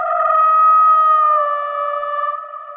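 A cinematic signature sound layer, pitch-tuned to a D tonality with Little Alter Boy, rings out as a sustained siren-like tone with clear overtones, loud and alone, wavering slightly as it fades over about three seconds.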